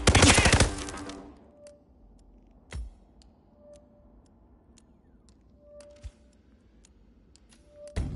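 A rapid burst of automatic gunfire in a militia-held apricot farm area, loud and close at first, then fading to sparse single shots and faint clicks over a quiet background.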